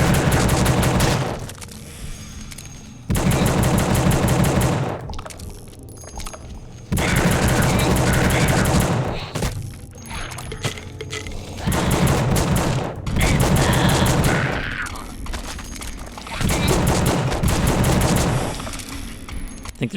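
Shotgun fire in the horror video game The Suffering: loud bursts of blasts come in repeated clusters separated by brief lulls, dense and close throughout.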